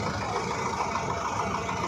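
A GAZ truck engine idles steadily nearby beside a field of ripe Canadian barley at harvest time, a continuous even drone with no pauses and no voices.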